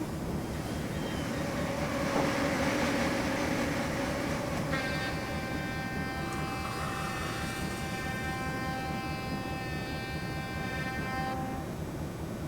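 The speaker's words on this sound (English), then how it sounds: "we're going to slowly start bringing this train to a stop" A train in a train simulator game slows toward a stop, a steady rumbling engine and rolling drone under which a bright, sustained high squeal of brakes rises midway and holds for several seconds.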